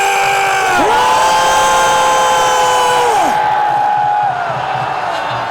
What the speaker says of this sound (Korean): 승리를 원한다면 전방을 향해 함성 3초 발사!